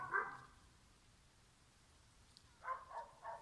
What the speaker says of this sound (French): Encore les aboiements.